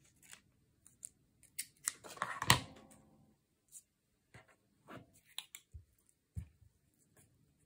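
Scissors cut fabric for a rustic Christmas junk journal in a string of close, crisp snips and clicks, with a denser burst of cutting in the middle and scattered single snips afterward, with no talking.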